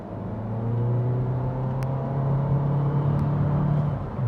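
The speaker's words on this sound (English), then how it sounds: "At partial throttle, this 4-cylinder feels perfectly fine." Inside a Honda Civic Sport hatchback, the 4-cylinder engine hums steadily under partial throttle, a smooth moderate drone with road rumble and no talk.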